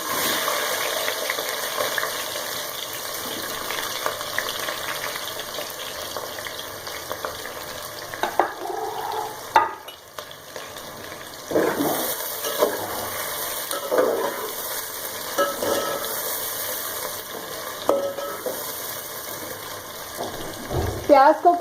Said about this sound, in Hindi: पैन में ऑयल डालने के बाद जब ये हीटअप हो जाए इसके बाद इसमें हम ऐड कर देंगे अनियंस